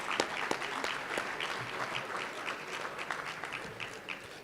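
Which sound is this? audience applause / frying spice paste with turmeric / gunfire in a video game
audience applause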